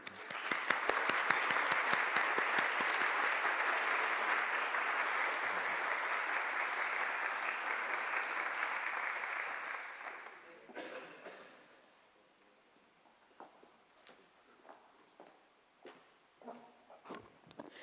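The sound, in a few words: audience applause for USP at award ceremony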